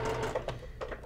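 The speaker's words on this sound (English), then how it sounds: "I'm just gonna stitch all the way down." A sewing machine stitches down the center of a fabric quilt block in short, quiet bursts of rapid needle clatter, faint and close.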